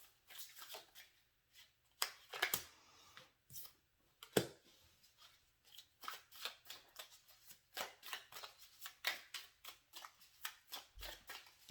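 Tarot cards being shuffled in an intermittent run of quick riffling and slapping bursts, close and fairly quiet, with short pauses between bursts.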